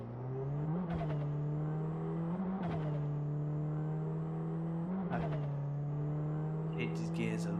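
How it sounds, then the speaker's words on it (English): Restored Toyota Hilux pickup on the move, its engine humming steadily with several quick upshifts where the pitch dips and climbs again, close and fairly loud throughout. "let's take it for a drive"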